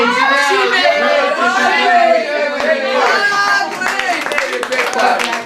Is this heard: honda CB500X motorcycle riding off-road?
no